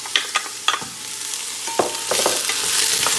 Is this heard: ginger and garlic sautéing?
yes